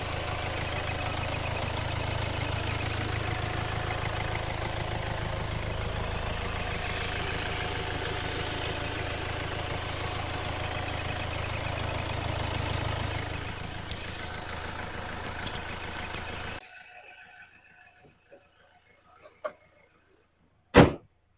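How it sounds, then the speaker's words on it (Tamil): A 2012 Hyundai Elantra diesel engine idling steadily and loudly for a while, then cutting off, followed by near silence broken by a couple of sharp clunks. "வண்டியோட இன்ஜின் நாய்ஸ் நான் உங்களுக்கு மைக்கை பக்கத்தில் வச்சு எப்படி இருக்குன்றதை காட்டுறேன்."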